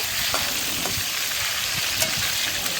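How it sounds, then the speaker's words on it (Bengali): Chicken pieces for butter chicken fry in refined oil in a pan, giving a loud, steady, close-up sizzle. Occasional soft scrapes and taps come from stirring. "চিকেনটাকে এবার একটু ভেজে নেবো হালকা করে"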